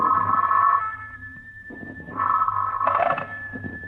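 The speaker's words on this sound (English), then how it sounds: "the phone rang early" A telephone rings early in the morning, two electronic ringing bursts separated by a short pause, fairly close and with no one talking over them.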